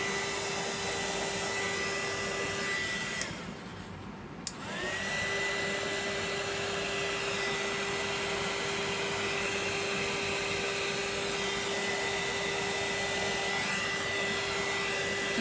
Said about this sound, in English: So let's see what the air gun will do.